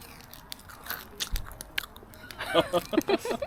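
A dog crunches a treat at a campsite on a rainy day, crisp crunching and biting sounds close up in quick irregular bursts that grow busier toward the end, with faint background noise.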